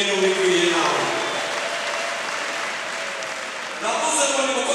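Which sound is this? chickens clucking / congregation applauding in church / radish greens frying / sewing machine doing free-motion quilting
congregation applauding in church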